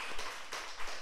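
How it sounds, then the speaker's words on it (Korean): Congregation applause in a church service after a worship team's praise performance, a broad crackling wash of many hands clapping with a couple of louder surges, no talk. "우리 찬양 다시 한 박수 보내주세요."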